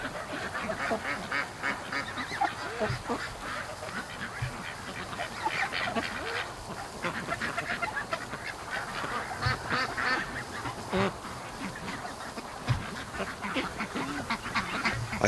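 Free-range geese kept with ducks honk and quack continuously as a busy, overlapping flock chorus heard outdoors at moderate distance, with no voices.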